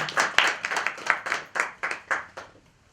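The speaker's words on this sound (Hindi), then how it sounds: "जोरदार ताली हो जाए" A small group claps in welcome for a speaker at a self-employment scheme event, about ten distinct, fairly quick hand claps in a steady rhythm that fade out toward the end.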